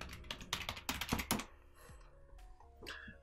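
Rapid clattering keystrokes on a computer keyboard entering a login for a remote Raspberry Pi Zero W, a close burst of taps that thins to a few scattered presses over quiet room hum.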